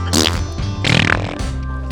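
A person imitates a fart with their mouth, two short buzzy blurts with a brief pause between them, close and fairly loud, with no talk.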